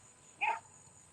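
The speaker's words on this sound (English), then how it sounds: "dogs barking" A dog outdoors gives one short bark, faint and somewhat distant, rising briefly out of a quiet background with a steady high hiss.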